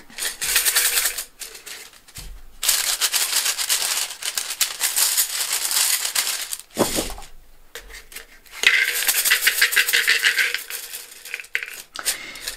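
Chinese fortune sticks rattled in their container: bursts of rapid wooden clattering shaken in several sessions, separated by short pauses and a few louder knocks, close and fairly loud.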